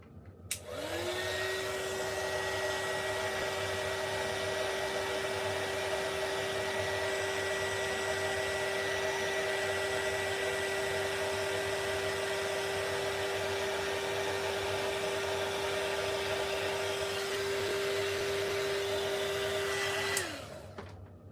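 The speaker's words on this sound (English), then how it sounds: "let's heat set this once again" Embossing heat tool blowing on white embossing powder during card making, a steady close whining hum like a hair dryer that starts abruptly, runs evenly for about twenty seconds, then cuts off.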